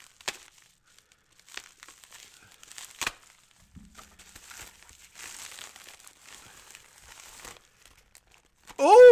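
Sporadic crinkling and tearing of a plastic bag being cut open after coming out of a box, soft close rustles spread through mostly quiet moments, with a brief voice at the end.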